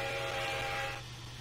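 A steady, tonal steam whistle from an ATN Consolidation steam locomotive in Train Simulator 2015 sounds for about a second, then cuts off, leaving a low mechanical rumble underneath.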